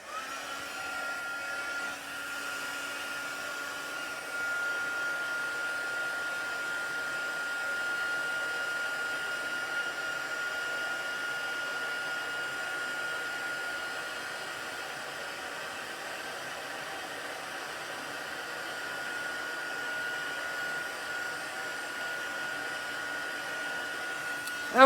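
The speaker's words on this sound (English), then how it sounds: "I'm going to go ahead and dry it up a little bit with my heat tool" Embossing heat tool blowing hot air over a papercraft card, a steady whooshing fan hiss with a faint whine, continuous and close for the full length, without any talking.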